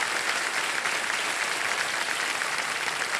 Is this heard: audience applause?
yes